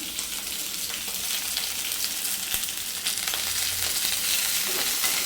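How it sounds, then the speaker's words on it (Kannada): Onions and green chillies fry in a pan, making a steady, bright sizzle that holds at a close, even level throughout with faint stirring scrapes. "ಇವೆರಡು ಒಟ್ಟಿಗೆನೇ ತೊಗೊಳ್ಳಿ ಚೆನ್ನಾಗಿ ಫ್ರೈ ಆಗಬೇಕಿದೆ"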